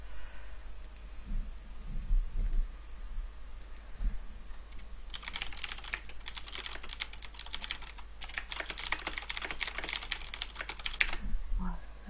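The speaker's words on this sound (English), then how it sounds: "that's just how my keyboard sounds when I type" Rapid, loud clattering of a computer keyboard begins partway through and runs for several seconds of dense, continuous typing before stopping, over a quiet background with faint talk early on.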